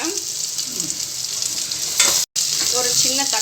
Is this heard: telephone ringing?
no